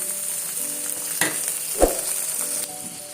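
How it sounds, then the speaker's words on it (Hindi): Minced keema fries in a pan with a steady sizzle, broken by a few sharp scraping stirs and one brief clattering knock near the middle, close and moderately loud with no voices. "और कीमे को अच्छे से मैं भून लूँगी।"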